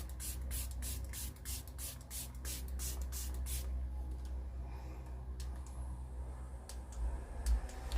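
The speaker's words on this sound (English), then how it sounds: "I'm going to spray it on now." A facial serum spray bottle from a skincare routine gives a quick series of about eight close, crisp misting bursts in a steady rhythm, then stops, leaving a quiet room.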